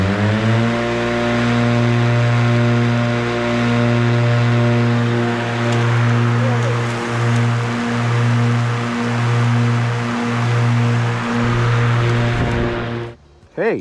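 A Ryobi 48V electric riding lawn mower cuts grass with a loud, close, steady motor hum that swells and dips rhythmically as it moves, then cuts off abruptly near the end.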